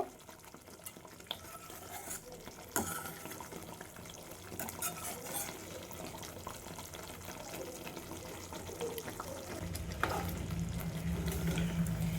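Eggs fry in masala with a steady close sizzle, broken by occasional stirring scrapes, the frying swelling louder near the end; no one speaks.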